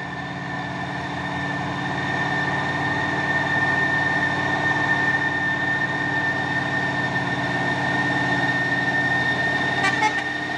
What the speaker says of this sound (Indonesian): Jumpa nih truk tangki CPO melewati tanjakan Bukit Kodok di pagi hari.